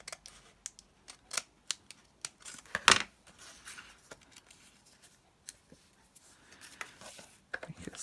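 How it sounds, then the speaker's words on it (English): Sharp, close snips of scissors trimming paper, a series of crisp irregular cuts with one louder rasping cut in the middle, over a quiet background. "Trim a little off there."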